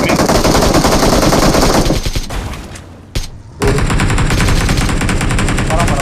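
Rapid automatic gunfire in a mobile battle-royale shooter, loud dense bursts that pause briefly mid-clip with a single sharp shot before resuming steady sustained fire.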